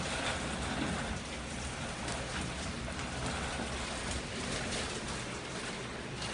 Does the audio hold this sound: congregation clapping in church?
no